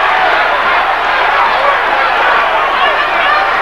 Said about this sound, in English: The crowd almost divided in their cheers.